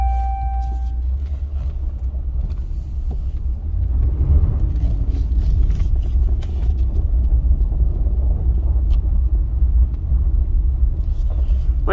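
Engine of a 2014 Dodge RAM 1500 4x4 pickup truck with about 99,640 miles, idling with a steady low rumble that swells slightly partway through, close and continuous.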